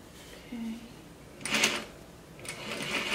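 Sewing machine with a rolled hem foot stitching fabric in short bursts, two brief whirring runs with small clicks between them, close and moderately loud.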